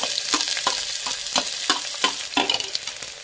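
Finely chopped onions fry in a pan, a steady close sizzle broken by several sharp scraping stirs at irregular intervals, with no voices over it.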